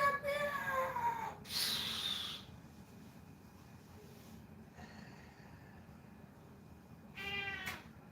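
Cat meowing, a couple of short meows near the start and another near the end, over a low steady indoor background hum.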